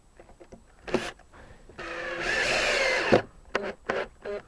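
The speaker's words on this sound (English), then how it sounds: "So I'm going to drill that now." A power drill whines and grinds through wood for about a second and a half, surrounded by short clicks and knocks of handling.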